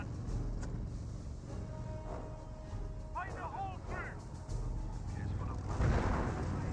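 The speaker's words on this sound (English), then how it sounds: "Oh, nope, that's the mortar half-track firing." Mortar half-track firing in the World War II strategy game Company of Heroes, giving low booming shots and rumble within a dense battle soundscape, with a louder thump near the end.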